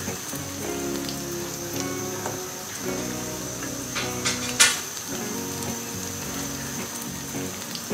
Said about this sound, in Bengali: ব্রাউন কালার হওয়া পর্যন্ত আমি এই পেঁয়াজগুলো ভাজতে থাকব।